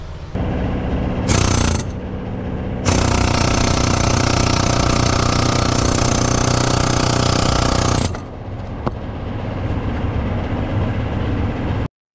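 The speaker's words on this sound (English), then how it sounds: "This hammer right here will get it off." Loud, steady pneumatic hammering rattles on for several seconds, removing the engine fan of a 2003 Ford F-250 7.3 Powerstroke, with a shorter burst beforehand and quieter mechanical clatter after it stops.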